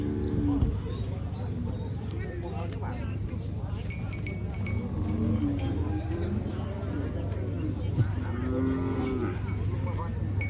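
Cattle mooing at a livestock market, several low drawn-out moos from different animals at moderate distance, with people talking and the noise of the busy market going on throughout.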